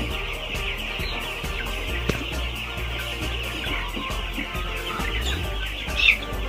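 A flock of poultry drinking vaccine-treated water in a farm shed clucks steadily, a dense continuous murmur of many birds close by with a louder call near the end and no talk.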